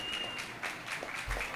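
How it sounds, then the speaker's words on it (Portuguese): An audience at a game jam pitch event applauds, faint steady clapping from a room of people with a few louder claps toward the end. "vocês também batessem palma novamente, agradecer aí pela atenção de vocês"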